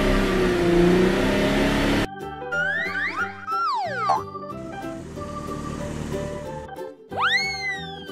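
Revving engine sound effect for a purple toy car, with a loud rising and falling vroom, swooping tones and springy boing-like sweeps over a few seconds of playful music.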